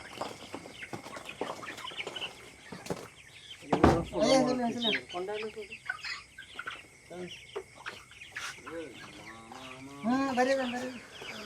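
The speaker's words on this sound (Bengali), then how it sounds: "এসে গেছে আমাদের মুরগি চিকেন" Sonali chickens on a poultry farm cluck and call in short bursts, close by, mixed with people talking over them.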